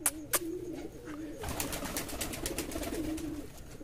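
Pigeons coo in soft, repeated throaty notes close by, with a couple of sharp clicks at the start and a burst of rustling wing flaps partway through.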